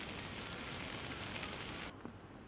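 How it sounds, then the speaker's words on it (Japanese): Steady rain pouring onto fully blooming cherry trees in a park in Sendai, a dense continuous hiss that drops off abruptly near the end. "仙台市青葉区の西公園では満開の桜に雨が打ち付けていました。"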